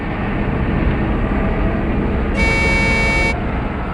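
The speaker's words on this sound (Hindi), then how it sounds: "हॉर्न भी बजा रहा है।" In a forest during a TV drama scene, a single sustained horn-like signal blares for about a second over a steady engine rumble.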